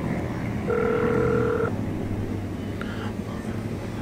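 A phone ringtone sounds while a breakdown call waits to connect: one sustained two-tone ring plays for about a second, followed later by a short fainter chirp over a low background hum.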